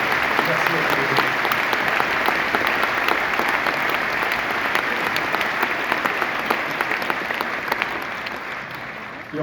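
Concert audience applauding at a film screening with live music at La Seine Musicale, a dense, sustained burst of clapping from a large crowd that stays strong and slowly eases toward the end.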